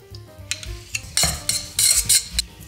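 A spoon stirs and scrapes deviled egg yolk filling mixed with yogurt in a bowl, giving close, intermittent clinks and smooth scraping strokes with no talking.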